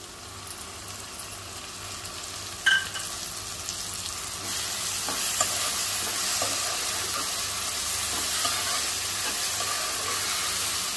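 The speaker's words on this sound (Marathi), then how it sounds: "आता कांदा टोमॅटो एकदम मऊ शिजून घ्यायचा आहे।" Onion, ginger-garlic paste and tomato puree masala sizzles steadily in a pan for prawn masala, a continuous frying hiss that grows slightly louder partway through, with a few light clinks of stirring.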